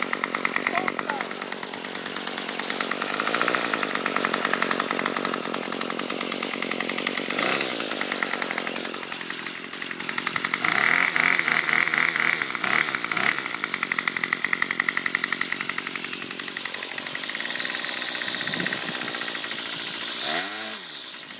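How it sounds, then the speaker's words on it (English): A Craftsman 25cc two-stroke weed whacker, started from cold, buzzes with a loud rattling engine note that wavers and revs unevenly across the run, ending in a brief sharper burst. "Craftsman 25cc weed whacker."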